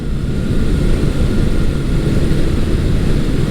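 A Honda CB750 motorcycle engine runs while being ridden after restoration, producing a loud, dense, throbbing low rumble that holds steady throughout with slight fluctuations.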